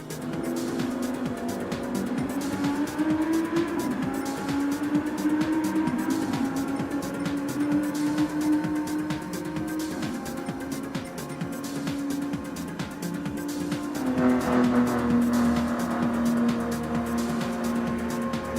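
Engine of the RX Vision race car roaring in a racing video game, a sustained harmonic drone rising and falling with gear changes, with a brief tire squeal, loud and steady throughout without talk.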